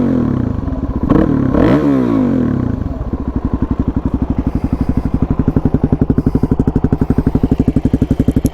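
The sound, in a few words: Suzuki DRZ400 engine throttle blips with aftermarket exhaust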